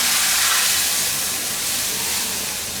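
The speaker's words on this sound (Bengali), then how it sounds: "এর মধ্যে বাগারটাকে দিয়ে দিব" Hot tempering oil poured into masoor lentil dal cooked with jackfruit seeds gives a loud, steady steaming hiss that eases off slightly over a few seconds.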